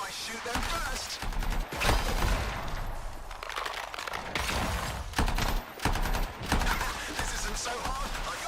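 Gunfire from shooting enemies in Anthem, rapid bursts of shots in repeated volleys, moderately loud over a busy combat mix.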